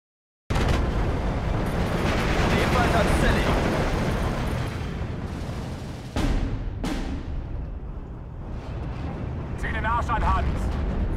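Mortar barrage in the WWII strategy game Steel Division 2: a dense, sustained rumble of heavy explosions and booms rolling on for several seconds, with sharp separate blasts cutting through and fading rumbles between them.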